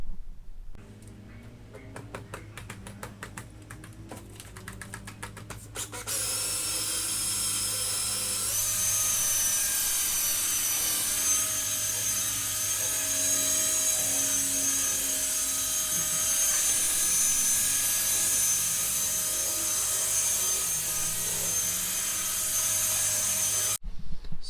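A polisher with a foam pad buffs a car headlight during a 3M headlight restoration: a steady, loud high whine that starts soft, then rises and holds unbroken for about twenty seconds, close by with no talk.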